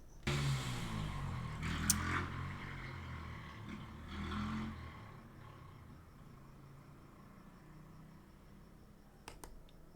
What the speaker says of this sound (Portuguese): A moto passou, fez um barulhão danado